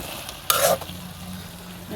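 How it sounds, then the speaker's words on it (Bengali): A pan of fish curry masala being stirred and sautéed, with a short burst of loud sizzling and scraping near the middle and a quiet low hum before and after. "এই যে দেখেন সুন্দরভাবে কষে নিচ্ছি"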